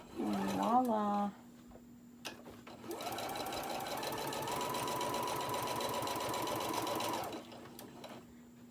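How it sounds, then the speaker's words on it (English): A sewing machine stitching the opening of a boxed-bottom cosmetic bag closed, running as a steady, close mechanical whir for about four seconds. A brief voice comes just before it and a constant hum sits underneath. "Pop it underneath your sewing machine. And you're gonna stitch a nice stitch along where that opening is."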